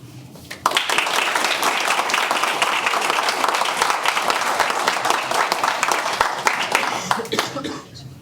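A school board meeting audience breaks into sustained applause, dense and steady clapping from many hands filling the room for several seconds before tapering off.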